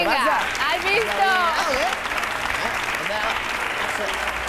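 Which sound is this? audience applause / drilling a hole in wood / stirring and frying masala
audience applause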